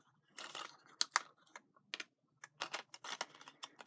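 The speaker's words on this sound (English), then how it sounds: "We're just going to die cut." A die cutting machine running paper leaves through, giving a series of close, sharp clicks and crunchy bursts with short quiet gaps between them.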